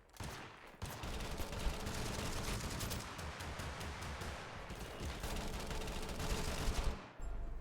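Sustained rapid gunfire from the video game Totally Accurate Battlegrounds, a dense continuous barrage of shots lasting several seconds, loud and without talk, ending abruptly.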